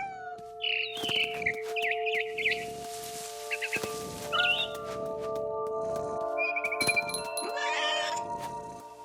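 A cat meowing in the game What Remains of Edith Finch, several drawn-out, fairly loud meows and a caterwaul, with brief bird chirps over a steady background drone.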